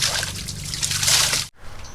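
Water splashing and trickling during an outdoor bath in Gaba, Rapu-Rapu, Albay, a steady close wash of pouring water that stops abruptly near the end.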